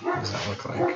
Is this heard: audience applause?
no